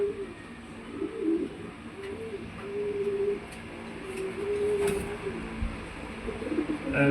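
Soft, repeated cooing from pigeons rolls on steadily at close range, with faint rustling and light background noise.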